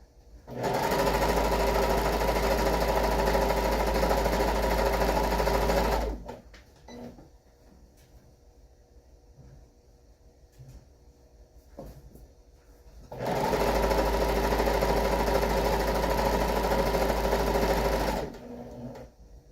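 A sewing machine stitches a fabric mat in two long, steady runs of loud, fast mechanical whirring, separated by a quiet pause with faint handling clicks.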